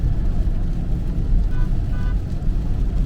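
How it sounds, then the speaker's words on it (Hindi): A Tata Tigor EV rolls downhill with speed building, giving a loud, steady road and wind rumble inside the cabin with no talk over it. "अभी देखिए जरा डाउन हिल जा रहा है तो गाड़ी का स्पीड बढ़ना शुरू हो गया है।"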